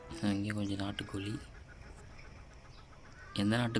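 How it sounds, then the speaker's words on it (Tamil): Native chickens in a Saudi Arabian date garden give loud, close clucking calls in two bursts, one at the start and one at the end, with a quieter stretch of outdoor background between them. "இங்கேயும் கொஞ்சம் நாட்டுக்கோழி."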